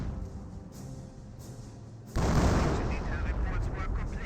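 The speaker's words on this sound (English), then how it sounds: "firing a barrage there" Grenade barrage in Company of Heroes 1, opening with quieter battle ambience and a commentator's voice, then a sudden loud roaring blast that sustains as rumbling explosive noise.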